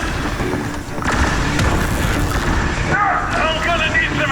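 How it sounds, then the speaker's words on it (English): Grenade blast in the third-person shooter The Bureau: XCOM Declassified, a broad loud boom amid continuous battle noise with gunfire and mechanical clatter, with voices calling out over the fighting. "Grenade, get down!"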